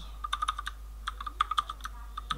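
Quick, light keystrokes on a computer keyboard while code is being written, arriving in short irregular bursts of clicks in a quiet room with no talking.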